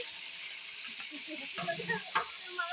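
Meat frying in oil with onions, bay leaves and cinnamon for a home iftar meal: a steady close hiss and sizzle with occasional crackles and stirring scrapes.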